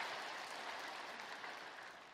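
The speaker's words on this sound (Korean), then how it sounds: "우리 하나님께 영광의 박수를 드리겠습니다" Church congregation at a Sunday worship service applauding together, a steady, dense wash of clapping from a large crowd that holds evenly throughout without voices.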